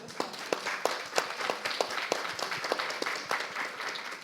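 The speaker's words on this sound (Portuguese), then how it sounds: "salve de palmas" Steady applause from a crowd, a continuous wash of many hands clapping with a few sharper claps standing out, moderately loud throughout.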